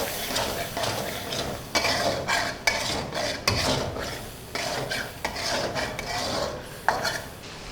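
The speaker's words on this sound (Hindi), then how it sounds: "चिकन को मसाले के साथ अच्छी तरीके से भून लूँगी।" Boneless chicken stir-fried with whole green chillies and spices in a karahi: steady scraping and clattering of a utensil against the pan, with bursts of sizzle and rhythmic strokes up close.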